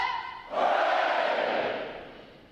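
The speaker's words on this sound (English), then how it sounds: "a round of 3 cheers" Graduating U.S. Navy recruits at a boot camp ceremony roar a loud unison cheer, a single sustained crowd shout that swells after a brief call and fades away.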